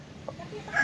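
A scruffy chicken with no feathers on its head or neck gives a short, soft cluck or two at close range in a quiet outdoor setting in the Philippines.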